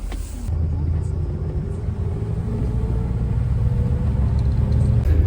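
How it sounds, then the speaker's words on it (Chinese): A tour bus engine at Mount Emei rumbles steadily from inside, with a low, continuous drone that slowly builds in strength, alone with no talk. "这个就是大巴车"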